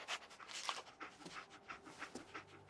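Dogmeat, the dog companion in Fallout 4, pants in quick, soft, rhythmic breaths with a faint whimper, close but fairly quiet, and nobody talks.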